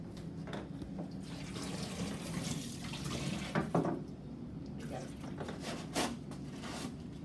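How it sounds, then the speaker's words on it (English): Tap water runs steadily into a darkroom sink, a soft continuous splashing with a couple of louder splashy bursts, while a voice speaks faintly at times. "So I'll just turn it up now and let it fill up"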